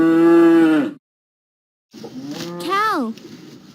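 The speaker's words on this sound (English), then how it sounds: "Cow." A cow moos twice on a children's animal-learning track, a steady low call followed after a pause by a rising, bending moo, both loud and close.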